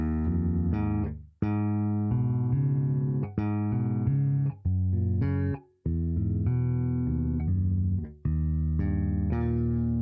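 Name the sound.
keyboard playing major chord octave higher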